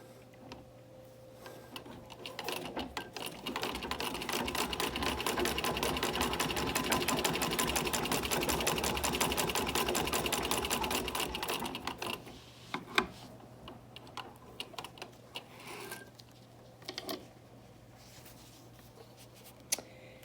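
A Singer 15-88 sewing machine stitches through leather in a steady, fast mechanical whirr that runs loud and close for about ten seconds, then gives way to quieter clicks, handling sounds and brief bursts of the machine.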